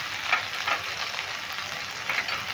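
Green and ripening red chillies with ground cumin and coriander fry in a pan for a vegetarian jackfruit paneer curry, giving a steady close sizzle with a few brief scraping stirs.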